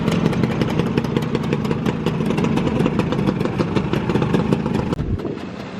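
Speedboat engines run at a steady idle in Ilfracombe harbour, a loud, evenly pulsing rumble with rapid clattering beats that continues throughout, followed by a brief thump near the end.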